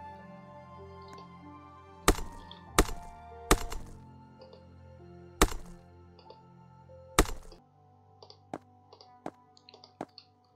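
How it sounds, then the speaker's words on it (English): Blocks being mined in the Roblox game Skyblock: a series of sharp cracking, knocking hits, roughly six loud strikes spaced unevenly over the first seven seconds, then lighter quick clicks, with no talking. "I'm going to start mining right there to to a more deeper area"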